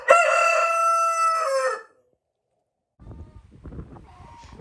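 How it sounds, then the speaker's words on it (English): A rooster crowing indoors inside a farmhouse, one long loud crow lasting nearly two seconds, then silence, followed by softer clucking and rustling. "we get to get woken up by a rooster in the house"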